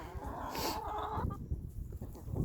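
Chickens cluck and squawk nearby in a short, busy burst, with a rooster's call among them and farmyard rustling underneath.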